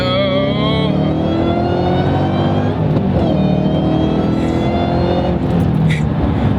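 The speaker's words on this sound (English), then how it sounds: "the classic supercharger whine" A 2007 Shelby GT500's supercharger whines as the car accelerates hard, a loud, steady rising engine roar that holds close and continuous throughout.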